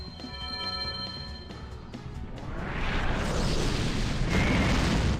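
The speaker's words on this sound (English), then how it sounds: "A massive explosion will be your ruin!" A spell explosion in the PS2 role-playing game Grandia Xtreme swells after a ringing tonal shimmer into a loud, sustained roaring blast that fills the last few seconds.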